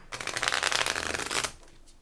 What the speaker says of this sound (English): I'm going to shuffle the remaining cards.